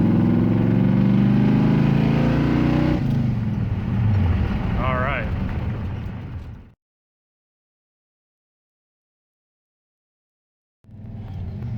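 Ford Maverick V8 with Holley vacuum-secondary carburetors on a dual quad intake pulls hard under load in second gear around 2,000 RPM, a loud dense engine roar that eases off and cuts to silence before returning near the end.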